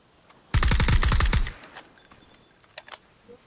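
A single burst of rapid automatic gunfire in PUBG lasting about a second, loud and close, followed by quiet with a few faint clicks.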